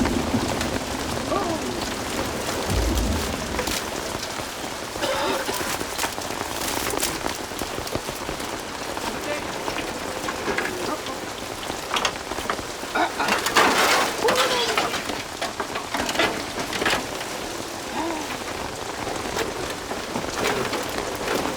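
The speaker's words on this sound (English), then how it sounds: "the rain is back" Steady heavy rain pours on a Mofu village in drought-stricken Cameroon, drumming on surfaces and drenched straw roofs in a dense, continuous hiss for the whole stretch, close and loud.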